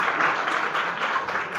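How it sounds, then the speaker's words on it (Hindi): An audience claps for award-winning students at a Constitution Day event, a brief, thick burst of applause from many hands close by. "ताली तो बजा दी बच्चों के"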